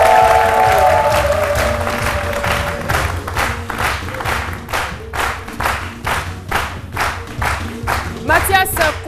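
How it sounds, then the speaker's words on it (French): A studio audience on a television talk show applauds a surprise guest, dense clapping that starts loud, thins into scattered claps and then swells again near the end. "Je vous demande de l'applaudir très très"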